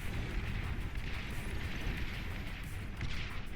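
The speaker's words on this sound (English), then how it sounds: "all of the bombers get destroyed before reaching their mark" Bombers being destroyed in the real-time strategy game Beyond All Reason, a dense continuous rumble of overlapping explosions that stays loud and steady throughout, with no voices.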